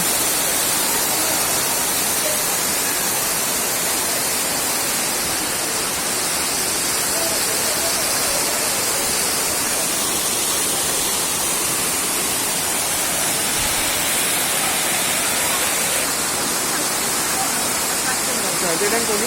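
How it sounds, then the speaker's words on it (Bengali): Light rain falling near Elephant Falls, blending with the rush of the waterfall into a steady, dense hiss of water that runs unbroken and fairly loud throughout. "টুপটুপ করে বৃষ্টি পড়ছে দেখছি"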